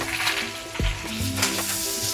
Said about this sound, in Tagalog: Pwede ko nang ilagay yung bawang tsaka sibuyas dito sa pan na to.